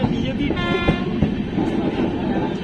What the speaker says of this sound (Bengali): বর্ধমান জংশন রেল স্টেশনে এসে পৌঁছলো